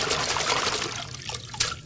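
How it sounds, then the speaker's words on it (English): A broccoli head is swished hard through a bucket of water, giving continuous close splashing and sloshing with brief trickles and drips, loud and without speech. "agitate it very strongly in the water"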